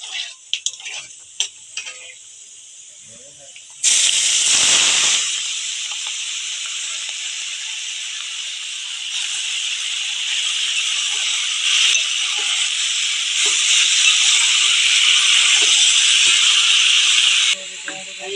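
Hot mustard oil hisses loudly in a pan while amodi fish chorchori cooks, with a sudden onset after a few faint clicks and then a steady, close, sustained hiss for roughly fourteen seconds before cutting off.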